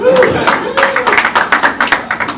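Comedy club audience clapping and cheering for a stand-up comic, a dense burst of close handclaps with voices mixed in, thinning into scattered claps near the end.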